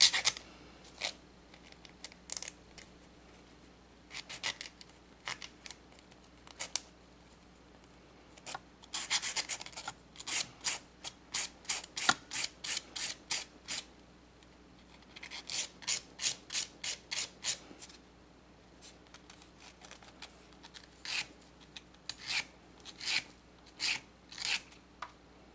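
Close, dry rasping of a nail file over the top and bottom sides of an acrylic spiral nail, in short strokes that come in bursts with brief pauses between them.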